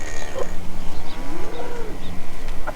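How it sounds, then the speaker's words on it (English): Dairy cattle moo in drawn-out, low morning calls, one overlapping another, fairly close against a steady low background hum. "They don't usually moo like that in the morning"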